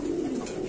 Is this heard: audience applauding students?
no